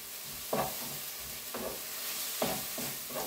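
Apples and onion frying in a pan, stirred three times with a utensil: short scraping bursts at steady intervals over a constant sizzle, close up with no voices.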